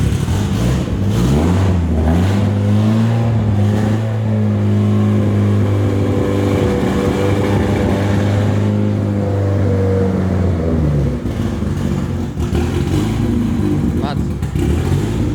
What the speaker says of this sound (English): She's a bit rough to start. You have to idle it with your foot.